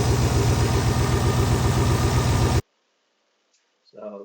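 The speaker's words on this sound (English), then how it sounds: "it's idling with the rad cap off" A Volvo 240 engine swapped to an LS V8 with a manual gearbox idles close by with the radiator cap off, a steady, lumpy rumble, then cuts off abruptly into near silence before a faint voice.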